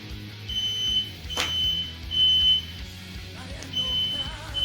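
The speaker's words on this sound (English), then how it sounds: "We're just going to have to put up with the beeping" Smoke alarm beeping in short high-pitched pulses while smash burgers are cooked on a hot griddle, the beeps recurring at intervals over low kitchen background noise and a brief clatter.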